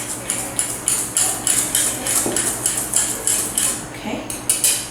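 Cake batter of malt powder being mixed in a bowl, with a rhythmic series of close clinks and scrapes as the utensil strikes the bowl, steady and repeating with no talking.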